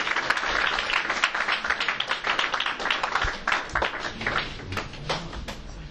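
Applause from an audience at a 2013 Siyum HaShas event at Ezra Camp, a dense patter of many hands sustained and fairly close, with faint talk blending in.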